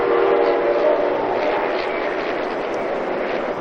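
A New Jersey Transit train passes close by after a December 1992 nor'easter, a steady loud rolling rumble that holds for several seconds with a brief tonal hum near the start.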